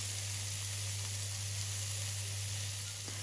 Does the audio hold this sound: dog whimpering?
no